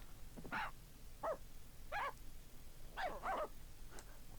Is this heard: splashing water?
no